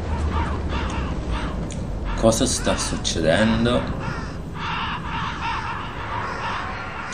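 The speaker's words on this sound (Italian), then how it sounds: "I corvi se ne vanno." Crows cawing in the horror game Shadows of the Damned, several harsh caws in a cluster mid-clip over a dark ambient bed, with someone talking over parts of it.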